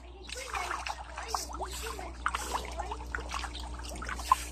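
Tilapia, four months and one month old, feed in a biofloc pond with a busy patter of small splashes and trickling water, fairly faint, over a low steady pump hum, while someone speaks intermittently.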